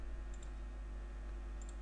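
Computer mouse clicks come in two faint, quick double-clicks, one near the start and one near the end, over a quiet low hum.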